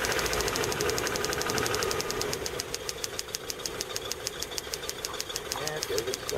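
A 1996 Toyota Town Ace engine idling with cylinder number 2 dead and number 1 weak, giving a close, uneven knocking rhythm of regular pulses that continues steadily throughout.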